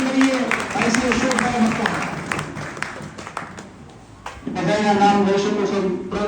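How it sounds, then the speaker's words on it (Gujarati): An audience at a community gathering in Bhavnagar, India applauds steadily with dense clapping, fading briefly before swelling again. "જોરદાર તાળીઓથી અભિનંદન"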